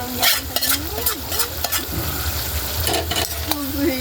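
Pakbet vegetables sizzle steadily in a hot pan while a utensil stirs them, scraping and clinking at intervals close up, with someone talking over the cooking.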